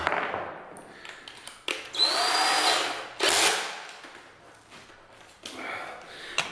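A power drill drives screws into OSB 3 boards, with short whining bursts that rise and fall in pitch, close and moderately loud over a quiet room.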